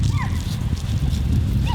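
Hunting dogs bay and yip at a cornered boar hog outdoors during a hog hunt, with sharp, close barks over a rough, noisy background.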